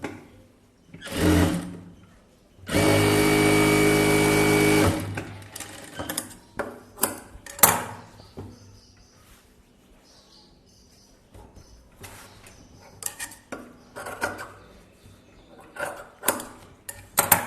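A tailor's sewing machine runs a straight stitch on a blouse: one short burst, then a sustained, loud whirring run of about two seconds, followed by scattered clicks and fabric handling.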